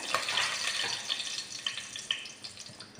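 Oil hisses and crackles softly in a pot while cooking mutton mandi, a faint continuous sizzle with small pops scattered through it.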